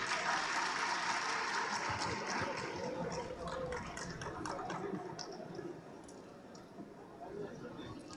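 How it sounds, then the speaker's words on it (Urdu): An audience at the Pakistan Literature Festival applauding guests, a dense wash of many hands clapping that starts full and gradually thins and fades over several seconds. "بہت ساری تالیاں ان لوگوں کے لیے بھی."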